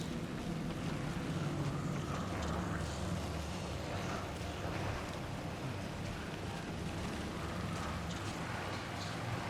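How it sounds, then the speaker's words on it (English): A faint, steady rush of wind in Alan Wake 2 blows as an even broadband whoosh with slight swells, low in level and uninterrupted, with no talking. "Oh, the wind's picking up, people."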